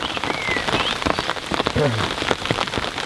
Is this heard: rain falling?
yes